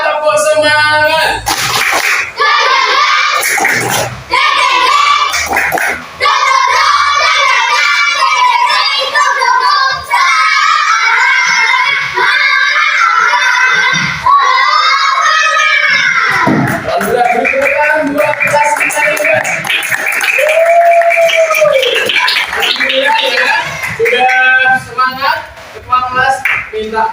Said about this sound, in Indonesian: Kelas 5, tepuk semangat.